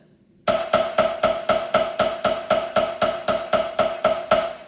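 Steady, evenly spaced strikes of Promark 5A hickory drumsticks on a drum, about three per second, crisp and close with a ringing tone, no voices.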